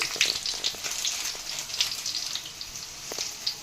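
Dried red chillies frying in hot oil for a tempering, giving a short stretch of soft, even crackling and spitting at moderate volume.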